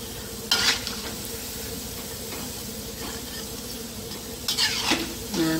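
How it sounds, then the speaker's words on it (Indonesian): Cassava getas snacks deep-fry in hot oil until evenly browned, a constant bubbling sizzle broken by two louder bursts of utensil stirring and pan clatter. "Ini digoreng sampai kecoklatan merata ya."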